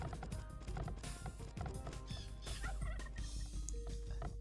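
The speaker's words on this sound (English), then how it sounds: "The turkeys have not been found by Villese yet" Turkeys gobble in a video game, quiet warbling calls repeating over a busy backdrop of game sounds.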